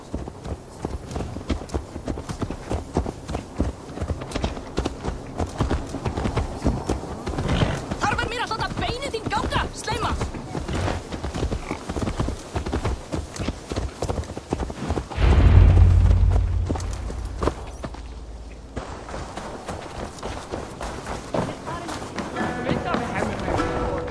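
Rhythmic horse hooves clip-clop at a trot in the video game Assassin's Creed Valhalla, steady and fairly loud, with voices talking over them and a brief deep thud midway.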